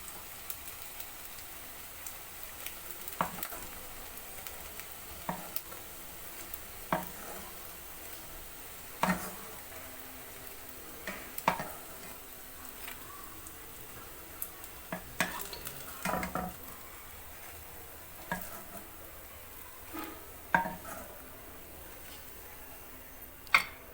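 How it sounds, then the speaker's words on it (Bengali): Vegetarian potato chops shallow-frying in a pan make a soft, steady sizzle, broken by scattered crackles and pops and a few light utensil taps. It is quiet and close, with no talking. "বাকি চপগুলো ঠিক একই রকমভাবে ভেজে নিচ্ছি।"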